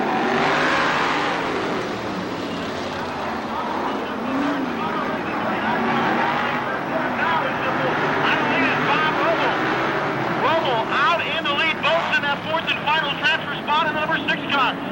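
Sprint cars race in a 1991 CRA heat, engines roaring and revving continuously under an excited announcer's commentary, the pitch of the motors rising and falling as the pack goes by.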